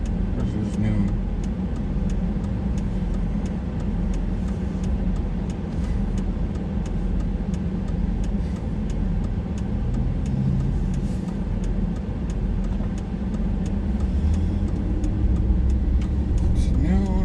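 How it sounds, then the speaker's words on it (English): Steady road traffic at noon on a summer day in Minot, North Dakota, with a continuous broad rumble of passing cars and engines, fairly loud and unbroken, a heavier vehicle swelling near the end. "Traffic's getting back to normal."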